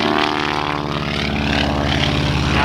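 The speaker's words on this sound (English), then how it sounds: "You can see that open cockpit as he flies the airplane right on around." Open-cockpit propeller airplane flying a barnstormer loop at an airshow, its engine droning loud and steady with a pulsing propeller buzz and slight pitch shifts as it rounds the maneuver.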